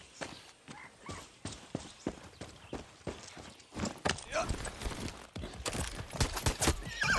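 Horse hooves clip-clopping with a brief whinny in the video game Far Cry 6, a steady run of hoof beats under game sounds and someone talking.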